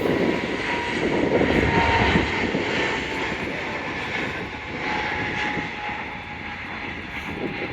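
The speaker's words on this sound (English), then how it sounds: "the Pegasus Airways, or Fly Pegasus, is just taking off" A Pegasus Airways airliner takes off from Manchester Airport, its engines giving a broad, steady roar that fills the whole stretch, loud and fairly near, with no voices.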